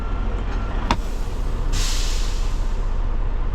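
Air brakes on a 53 ft semi truck at a loading dock let out a sudden loud, broad hiss that keeps going steadily to the end, over a constant low engine rumble.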